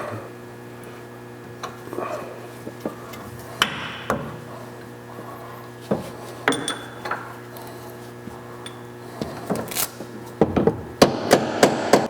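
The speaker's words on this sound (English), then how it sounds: "just going to take a hammer and a punch to move this" Sharp metallic hammer strikes on a punch during an air bag suspension install on a vehicle, scattered taps at first then a quicker cluster of blows near the end, close and ringing.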